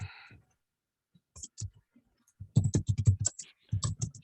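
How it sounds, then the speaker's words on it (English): Keyboard typing picked up in the background of an online Zoom meeting: quick clusters of close, light clicks in an irregular rhythm, densest in the second half, with short pauses between bursts. "If somebody's typing, whoever's typing, we're picking up on that."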